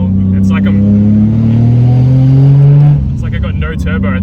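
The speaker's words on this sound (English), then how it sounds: "I'm driving home with no boost" Up close, a 1JZ engine in a Toyota Chaser with its turbo boost lost revs and climbs in pitch for about three seconds, then the revs drop off sharply and settle lower.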